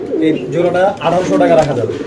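A pair of fantail pigeons coo in soft, repeated throaty phrases close by, the calls overlapping through the short stretch with no talk.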